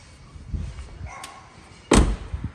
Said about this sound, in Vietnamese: đóng cửa thì các bác có thể nghe thấy là nó